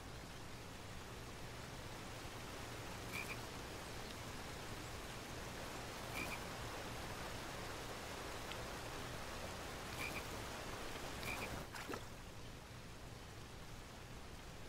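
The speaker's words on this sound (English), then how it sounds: "Frog." A frog croaks a few times, spaced several seconds apart, in the King's Quest video game, set against a steady bed of noise like rain or ambience.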